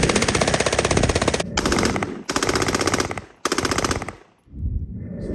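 A piston-driven HK rifle fires close and loud in rapid automatic bursts, three long strings of shots separated by brief pauses, then a short final burst.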